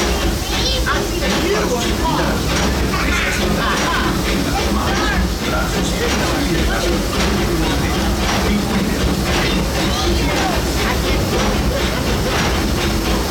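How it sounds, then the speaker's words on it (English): Steady rumbling and clattering of the Disneyland Railroad train running along rails, with a continuous hiss and passenger voices murmuring underneath. "welcome aboard the Disneyland Railroad"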